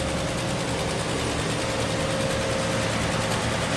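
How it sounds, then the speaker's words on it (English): The stove bolt inline engine of a 1949 Chevrolet Styleline Deluxe Sport Coupe runs at a steady idle, a loud, even, continuous mechanical hum and clatter with no talking. "Stove bolt Chevy engine in a 1949 Chevrolet Styleline Deluxe Sport Coupe"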